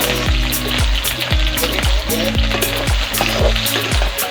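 Loud, steady sizzling of okra and chillies frying in hot oil, with repeated scraping and stirring strokes against the pan.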